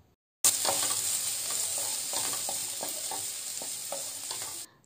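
Beans and carrots stir-fried over a high flame for vegetable fried rice and noodles give a loud, constant sizzle that starts abruptly, with rhythmic scraping stirs throughout and no talking.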